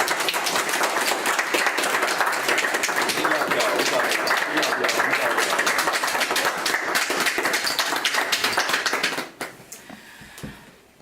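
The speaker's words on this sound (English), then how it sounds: "Let's please give them a round of applause." Audience giving a round of applause after a reality show performance, loud steady clapping that runs for about nine seconds and then quickly tapers off into a few scattered claps.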